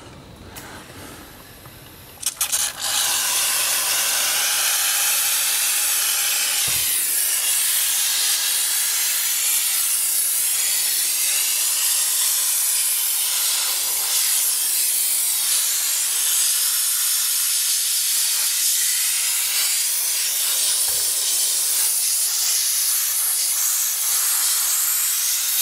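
A Tosca cleaning tool running on setting 2 while cleaning an Alcantara steering wheel from a 997.2 GT3 starts with a jump to a loud, steady, close hiss that continues unbroken for over twenty seconds.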